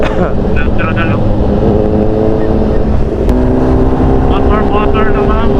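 Motorcycle riding along a road, a steady engine drone with passing traffic noise throughout, loud and close, with people talking over it at times.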